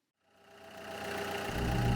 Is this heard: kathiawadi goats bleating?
no